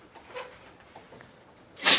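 A single sharp sneeze bursts out near the end, loud and close, after a stretch of quiet murmuring in a classroom-style physics lesson.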